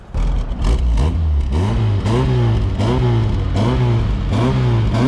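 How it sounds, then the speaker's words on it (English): Carbureted Toyota TE27 Corolla engine revved repeatedly up close, with about six sharp rises and falls in quick rhythm, loud and clear with no talking. "But you can't beat the sound of the carburetor."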